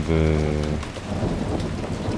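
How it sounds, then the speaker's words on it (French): A thunderstorm with lightning brings steady, wide rain and low rumbles of thunder. A brief tonal hum opens the sound before the downpour fills it. "Ah, que c'est joli de voir l'orage"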